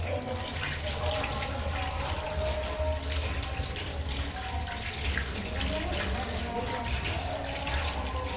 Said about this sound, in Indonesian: Basahi tangan dengan air.